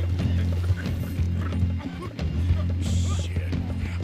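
A horse in Red Dead Redemption, its hooves clip-clopping in a quick, steady rhythm close by through the whole stretch, over a dense, constant game soundscape.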